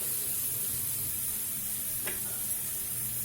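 Chena curry fries with turmeric, salt, cumin and chili powder as it is stirred, a continuous sizzle of hot oil with a soft scrape of the spoon across the pan near the middle.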